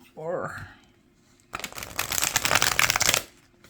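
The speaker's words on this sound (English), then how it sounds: "So let's do a shuffle. Let's see how it shuffles." A short voiced sound comes first, then a deck of thick-cardstock tarot cards is shuffled in a fast riffling burst lasting over a second, close and crisp.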